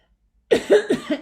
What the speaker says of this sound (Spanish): me entra la tos